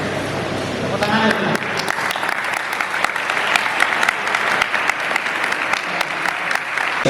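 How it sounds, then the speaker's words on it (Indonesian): Sustained applause from a crowd at a maritime academy alumni motivational gathering, steady dense clapping throughout with a few cheers and voices mixed in. "Tepuk tangan"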